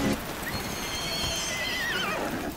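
A horse neighs and whinnies loudly in Far Cry 6, its shrill, wavering call rising and then falling over about two seconds, with hoof clip-clops and game noise beneath it.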